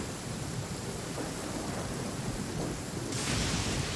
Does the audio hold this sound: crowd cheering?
no